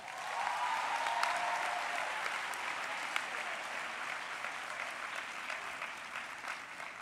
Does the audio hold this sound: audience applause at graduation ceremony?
yes